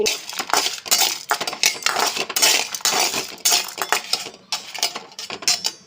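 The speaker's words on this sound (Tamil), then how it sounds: "இது கொஞ்ச நேரம் நல்லா வறுக்கலாம்" Ridge gourd peel chutney ingredients with a small piece of tamarind roast in a pan, with loud, irregular metal clinks and scrapes of a spatula stirring them.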